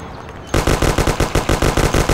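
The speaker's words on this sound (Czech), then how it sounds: "trochu rychle to střílí" Rapid automatic gunfire from the video game Mafia erupts after a short quiet moment, a fast, steady stream of loud, evenly spaced shots lasting to the end.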